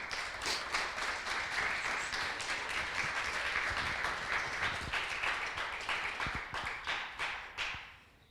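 Church congregation applauding, a full burst of many hands clapping that holds steady, then thins into individual claps and fades near the end, with no talking.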